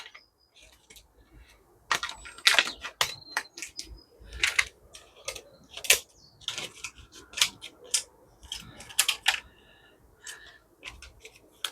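Scissors snip repeatedly through a thin plastic container while plant labels are cut out, a close run of crisp clicks and crackles with short pauses between cuts.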